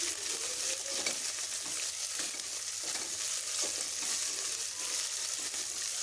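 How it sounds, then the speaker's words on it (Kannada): Chopped onions fry in hot oil with mustard seeds for a horse gram sambar, a dense close crackling sizzle punctuated by periodic stirring scrapes, steady throughout with no talking. "ಸಾಸಿವೆ ಚಿಟ್ಟಪಟ ಅಂದಮೇಲೆ ಈರುಳ್ಳಿನ ಹಾಕೋತಾ ಇದ್ದೀನಿ. ಈರುಳ್ಳಿನ ಫ್ರೈ ಮಾಡ್ಕೋಬೇಕಾಗುತ್ತೆ."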